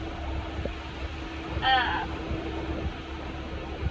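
A steady low tractor engine rumble drones on continuously during haymaking, with a faint higher whine briefly rising over it.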